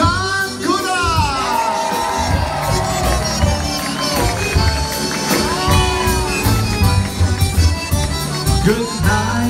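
Crowd at a Polish-American polka dance cheering and whooping for the bandleader, a dense continuous roar of voices with shouts on top, band music faintly mixed underneath.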